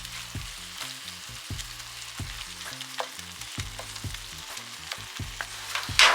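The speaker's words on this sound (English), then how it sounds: "And just mix it up, season it up, let the meat cook down." Ground meat frying and cooking down in a pan for a meal prep, a steady sizzle with stirring scrapes under fairly loud background music.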